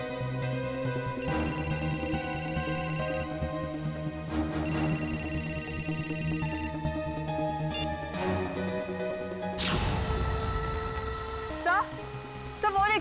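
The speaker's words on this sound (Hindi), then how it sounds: "सिद्धार्थ का फोन" A high electronic phone ring sounds in two long bursts over a cluttered, noisy background with music-like tones and thumps.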